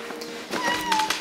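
A house cat meows indoors at home in the morning, one short, clear, fairly close call rising in pitch over a quiet room.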